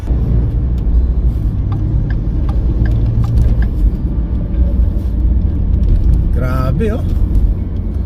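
A car driving on a slippery road in Edmonton, Alberta, Canada, with a steady low engine and road rumble throughout while a person talks over it at close range.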